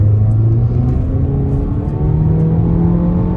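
A Renault Megane 4 RS engine with a Stage 1 remap drones loudly and steadily, its pitch climbing as it accelerates hard in third gear, heard close from inside or near the car.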